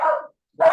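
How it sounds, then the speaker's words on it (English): A dog in the background of a video call gives two quick barks separated by a short silence, moderately loud and close to the microphone. "got a barky dog."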